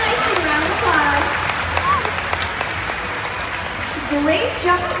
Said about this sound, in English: Let's give them a nice big round of applause.